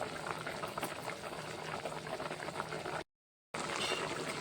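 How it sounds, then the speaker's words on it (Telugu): Spinach dal of lentils bubbles steadily as it boils in a pot, a close, continuous gurgling with a brief silent gap partway through. "ఇప్పుడు పప్పు ఉడుకుతుంది"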